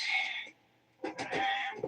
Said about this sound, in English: It's like the encore of cat meows.